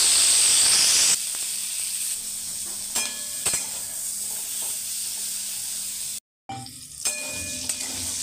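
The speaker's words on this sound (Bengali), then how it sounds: "তারপরে টুকরো করে রাখা পনিরগুলোকেও নুন হলুদ দিয়ে ভালো করে ভেজে নিলাম।" Paneer pieces with salt and turmeric fry in hot oil, a steady close sizzle and hiss with a few clinks of a utensil and a brief gap of silence near the end.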